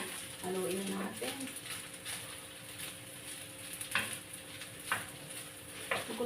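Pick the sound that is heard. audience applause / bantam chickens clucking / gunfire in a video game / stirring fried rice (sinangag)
stirring fried rice (sinangag)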